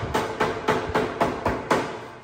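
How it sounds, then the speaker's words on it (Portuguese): Seven sharp, evenly spaced metallic taps from a paintless dent repair hammer in a small auto body shop, loud and close, with no speech. "Martelinho de ouro."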